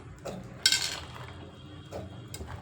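Raw beans going into a small pressure cooker in a home kitchen: a sharp metallic clatter followed by soft, scattered clinks and scrapes of metal, close and fairly quiet, with no talking.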